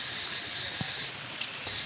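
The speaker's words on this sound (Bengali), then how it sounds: "এখনও বৃষ্টি পড়ছে, ঝিমঝিম করে বৃষ্টি পড়ছে।" Light, steady rain falls outdoors on sandy ground, a soft continuous hiss with a few faint drop taps, no voices.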